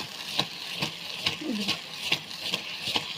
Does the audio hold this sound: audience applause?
no